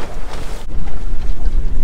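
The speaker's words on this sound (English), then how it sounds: "So windy." Strong gusts of coastal wind on a fishing trip at Port Stephens, Australia, buffet the microphone in a steady low roar, with a brief dropout partway through and no voices.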